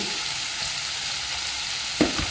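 Okra sizzles steadily in hot oil in a pan with a soft continuous hiss, and a single utensil knock comes near the end; no voices.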